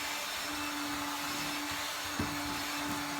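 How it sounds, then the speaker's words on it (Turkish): A small household vacuum cleaner sweeps baking soda off a floor, giving a steady close motor whine throughout with a brief bump partway through. "ben küçücük bir süpürgeyle dahi size nasıl süpürülebildiğini göstermek istiyorum"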